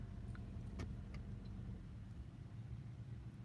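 A car rumbles past nearby, a low steady engine and road noise that swells and then fades over a few seconds, with faint clicks above it.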